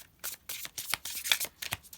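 Tarot cards being shuffled by hand, a series of quick crisp riffling and sliding bursts in an uneven rhythm, close and moderately quiet, with no voice over it.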